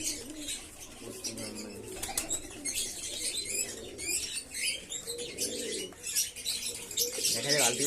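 Pigeons cooing and fluttering their wings while being fed, with bird chirps mixed in; soft, irregular calls and wingbeats continue throughout at close range, with faint human voices in the background.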